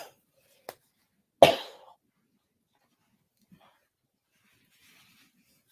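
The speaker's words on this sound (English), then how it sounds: "excuse me, I had to cough." A single sharp cough from a person close by, preceded by a small throat noise, then near silence.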